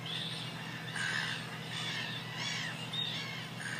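Brown-hooded gulls calling at a nesting colony in Argentina: repeated harsh squawking cries over a steady distant background, moderately faint.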